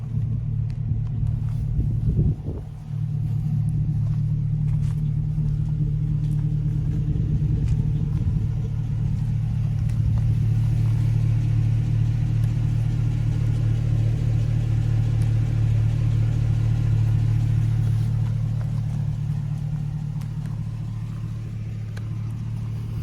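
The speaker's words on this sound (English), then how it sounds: "It's really not a loud exhaust system at all. Nice little burble, that's it." A Hummer H3T Alpha's exhaust gives a steady, low rumbling burble at idle, continuous and close for the whole stretch, with a slight change in tone partway through and no voices.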